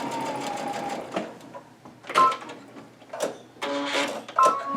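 A sewing machine runs a long basting stitch in uneven bursts of rapid mechanical clatter and whir, with brief pauses between runs.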